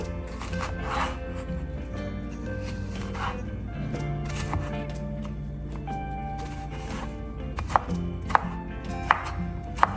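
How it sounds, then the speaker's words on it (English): A knife on a board cuts soft kaddu vegetable into cubes with a rapid, even run of close chopping taps, plus a few sharper knocks near the end, over a low background hum. "Chop them further in cubes."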